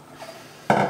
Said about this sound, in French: on vient mélanger donc le mélange beurre, sucre et œuf avec la farine